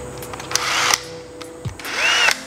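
A 2016 impact driver runs in two short whirring bursts, each about half a second long and separated by a brief pause, heard up close with no talk.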